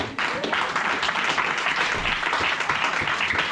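A church congregation applauding the Lord during a worship service, with dense, steady clapping from a large crowd that keeps going at an even level throughout.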